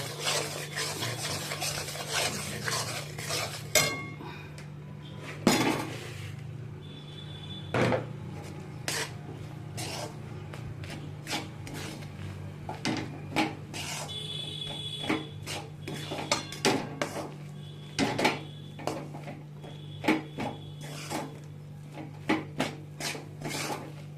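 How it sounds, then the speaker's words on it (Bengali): Milk with a few poppy seeds simmers in a pot on the stove as a spoon stirs it, making repeated close scraping and clinking strokes against the metal, with no talking. "এই যে দুধটাকে এর মধ্যে জাল দিচ্ছি"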